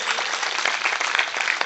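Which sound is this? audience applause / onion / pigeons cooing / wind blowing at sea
audience applause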